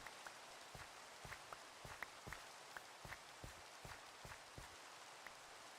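Rain in the video game GregTech: New Horizons, a faint, continuous hiss overlaid by a regular series of soft thumps, like footsteps pacing through the downpour.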